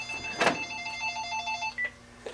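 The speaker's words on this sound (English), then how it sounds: "I got the other line ringing." A telephone rings in an office at a candy company, its electronic tone sounding in a short repeated burst, fairly faint with a brief noise at the start.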